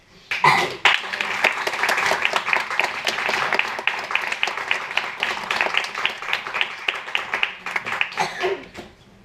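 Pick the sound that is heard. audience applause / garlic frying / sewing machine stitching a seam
audience applause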